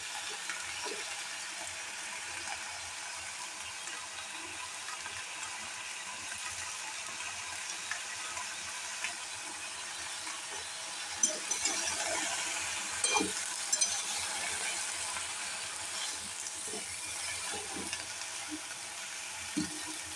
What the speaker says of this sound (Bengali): এটা অল্প সময় লাগবে ভাজা হতে।